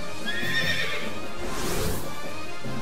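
A Pegasus horse neighs in the video game Culdcept Saga, one whinny over about three seconds with a brighter upper cry early on and a dense noisy body throughout, loud and close with no talk.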